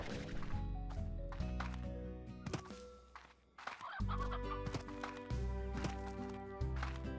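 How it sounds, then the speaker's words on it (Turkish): Chickens cluck repeatedly in the video game Slime Rancher, short clucks over steady game music, with a thwacking hit partway through. "Tavuk sesi geldi mi?"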